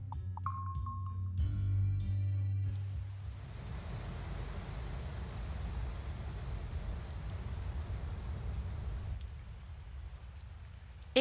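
Steady rain falls in a video game, a dense, even hiss that fills the scene after a brief musical opening, continuing without a break for several seconds until a sharp sound cuts in at the very end.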